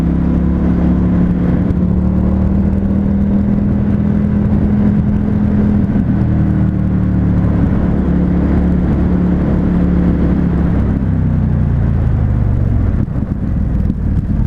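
An Indian FTR 1200 S motorcycle on the move, its engine a loud, close, continuous drone that climbs slowly in pitch and then eases off near the end, with road and wind rush underneath.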